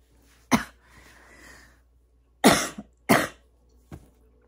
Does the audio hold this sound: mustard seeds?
no